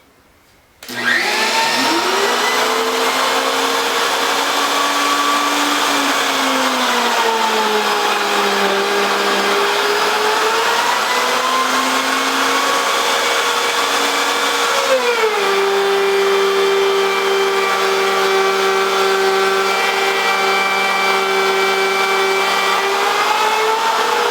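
A power tool runs steadily for a test dado cut in a board, a loud continuous whine starting abruptly and holding for over twenty seconds, its pitch dipping and shifting midway as the blade works through the wood.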